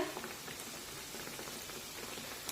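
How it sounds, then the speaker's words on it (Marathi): Masoor dal vadas deep-frying in hot oil, giving a faint, steady bubbling and crackling hiss that fills the whole stretch without pauses. "साधारण एक मिनिट तरी या वड्यांची एक बाजू तळून घेऊया"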